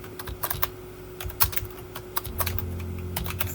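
A computer keyboard typed on in quick uneven runs of clicks, near and clear, over a faint electrical hum and a low background rumble.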